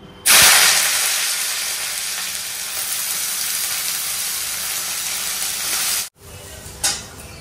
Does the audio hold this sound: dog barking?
no